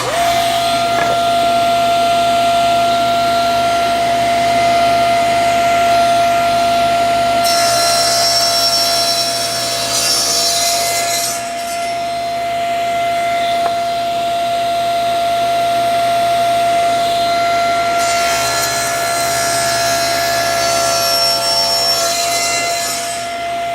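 A table saw with a crosscut sled trims material from a wooden door panel, its blade whining steadily and loudly for the whole stretch, with two brief bursts of brighter cutting noise as the blade bites through.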